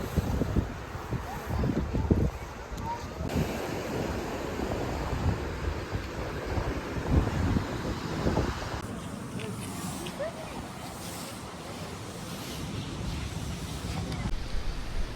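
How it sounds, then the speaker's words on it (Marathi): Rough sea surf rolls onto a beach on the Gujarat coast near Somnath, a continuous rushing wash of waves with strong wind buffeting the microphone throughout. "काही पाणी एकदम खवळलं आहे."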